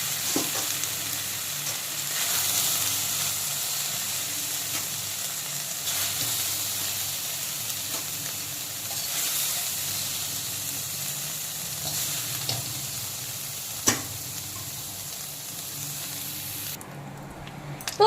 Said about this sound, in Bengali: তো সয়াবিনগুলোও কিন্তু বন্ধুরা হালকা করে ভেজে নিচ্ছি।